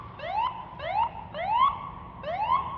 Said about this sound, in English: The police or ambulance, fire truck.